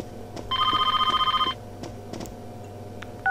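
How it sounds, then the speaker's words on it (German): A telephone rings in the video game Persona 4, one electronic trilling burst of about a second over a faint game background, followed by quiet clicks and tones. "Oh, Telefon."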